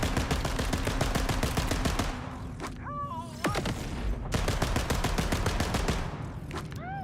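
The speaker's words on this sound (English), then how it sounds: "Reloads the gun, fires 3 homing copies." Ruby's Grasp pistol in Borderlands 4 fires rapid bursts of gunfire, dense and continuous, with brief whistling, whooshing projectile sounds in the pauses between volleys.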